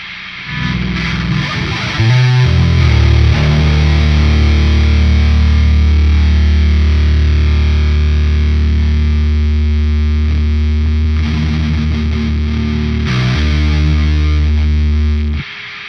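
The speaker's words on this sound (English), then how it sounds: "the rat pedal has the signature sound that every Doom drone band has" Electric guitar played through a Rat distortion pedal for drone doom metal, a loud, thick, sustained distorted drone that holds steadily for about fifteen seconds with a brief shift in the middle, with no voices.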